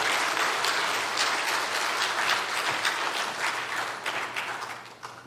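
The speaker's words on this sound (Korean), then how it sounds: "박수 한번 뜨겁게 해주시면 감사하겠습니다." Congregation applauding at a church thanksgiving service for a sermon book's publication, steady warm clapping throughout that tapers off at the end.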